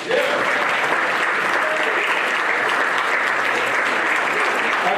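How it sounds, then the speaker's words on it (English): Sustained applause fills the air from a large crowd at a Pro Football Hall of Fame ceremony in Canton, Ohio, honoring the players; a steady, dense wash of clapping holds level throughout, with a faint voice beneath. "Let's give one more round of applause for your players."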